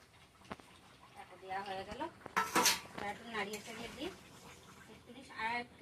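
A metal spoon clinks and scrapes against a pot of meat curry while it is stirred, the clatter coming in short bursts beneath a woman's speech.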